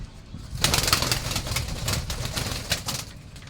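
A female pigeon is let go and beats its wings in a dense, fluttering burst of flapping that carries on steadily for a few seconds, close and fairly loud.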